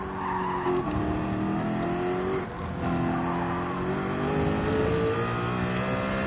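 A race car in Gran Turismo 7 revs high and holds a sustained, droning engine note, the pitch climbing steadily, with brief tire squeals and skids, loud and close throughout.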